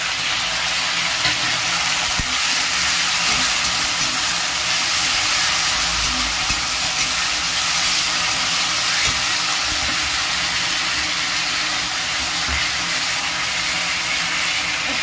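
A ground paste of garlic, ginger, chilli, cumin and coriander sizzles loudly and steadily in hot oil, a continuous close hiss with no pauses, while potato and pointed gourd cook for a rohu fish curry.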